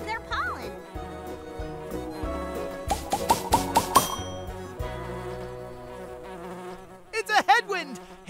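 A cartoon bee buzzes in a children's pollinator video game, with a close buzzing drone and a wavering swoop near the end, mixed with game music and chiming effects.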